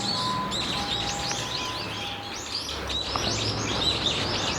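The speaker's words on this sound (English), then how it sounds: "Maybe I'm upsetting these birds. I mean, they really are squawking." Birds squawking and chirping outdoors at night in the Tokyo countryside, a dense, steady chorus of overlapping calls at moderate distance, continuous throughout with no talk.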